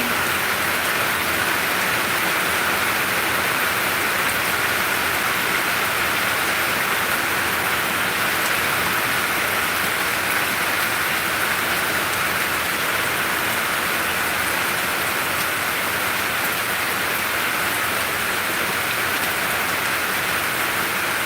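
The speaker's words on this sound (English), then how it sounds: "This is maybe a half of a gully washer." Heavy rain in a video game makes a loud, steady, broadband hiss that holds unbroken throughout, with no talk.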